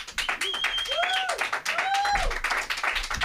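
Comedy club audience at a Monday night show applauding, a dense wash of clapping with voices whooping and calling out over it, loud and sustained throughout.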